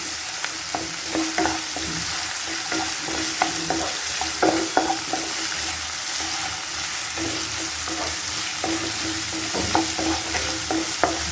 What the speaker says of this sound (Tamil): எல்லாம் நல்லா வதங்கி வரும்போதே தக்காளி போட்டுக்குவோம்.